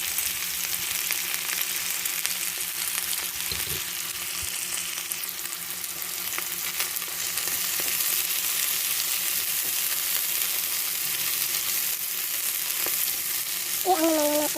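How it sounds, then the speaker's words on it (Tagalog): Cabbage stir-fries in a pan for a pancit bihon noodle dish with meatballs, giving a steady, loud sizzle with occasional scraping stirs and no talking. "Then, ihalo natin yung cabbage."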